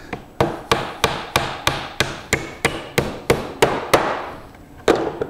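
A hammer drives a nail into a wooden beehive bottom board, giving about a dozen sharp, evenly spaced blows, close and loud, ending with a pause and one last strike.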